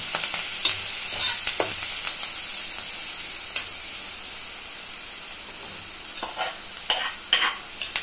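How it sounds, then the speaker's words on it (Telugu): Red chili paste fries in a pan with a steady hiss and sizzle, broken by scraping strokes of a spoon stirring through it. "పండుమిర్చి కారం చేసుకున్న తర్వాత బాగా వేయించుకోవాలి"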